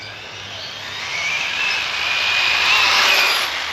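RC buggy on GRP tires racing along a dusty road, a steady high motor whine that swells and rises in pitch as it runs past, fairly loud with no talk.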